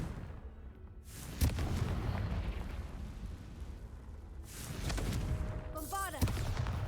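The Confringo fire spell in Hogwarts Legacy goes off as loud, roaring blasts: one sharp burst early on, then a longer rumbling explosion later with a whistling, crackling tail over a continuous low game backdrop.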